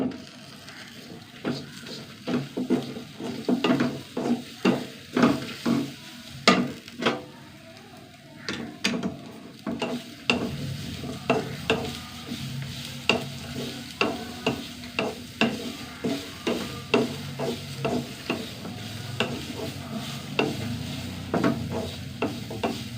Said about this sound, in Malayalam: തേങ്ങയൊക്കെ വറുത്ത് വന്നു.